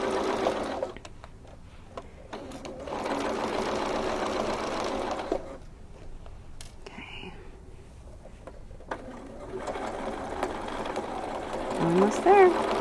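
A sewing machine fitted with a Bernina walking foot runs in steady bursts of stitching, pausing in between, close and moderately loud, with a voice speaking briefly near the end.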